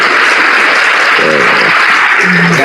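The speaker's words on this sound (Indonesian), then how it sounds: "Kasih tepuk tangan dulu." A loud, dense burst of clapping from a church or lecture audience, steady and close throughout, with a brief voice or tone briefly poking through near the middle and end.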